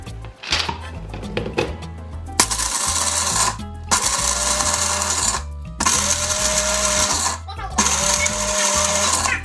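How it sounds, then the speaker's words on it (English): A food processor grinds almonds into flour in loud, close pulses, its motor whirring in bursts separated by brief stops, with rattling and chopping of the nuts inside the bowl. "we're just going to put it in a food processor and blend it all up until it's a flour-like consistency"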